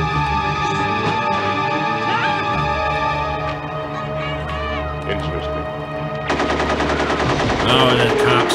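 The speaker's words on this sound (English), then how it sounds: "the cops' weapons failed to defeat him, I guess" Automatic gunfire from police weapons in a sci-fi action film rattles in rapid bursts, loudest toward the end, mixed with film music and effects while people talk over it.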